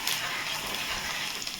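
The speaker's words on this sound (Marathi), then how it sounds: "मी जवळजवळ मिनिटभर तरी मी आपलं फोडणी जी टाकलं आहे ते सगळं परतून घेतलं आहे" Green chillies tempering in hot oil for a bhindi (okra) fry, giving a bright, continuous sizzle and hiss up close, with faint stirring clicks and no talk.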